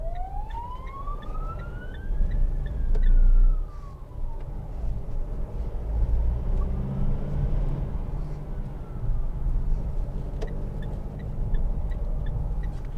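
An ambulance siren sweeps up and down in a wailing pattern as it passes a moving 2014 Mitsubishi L200 2.5 DI-D Trojan pickup, heard over the truck's cabin road rumble and fading as it moves away.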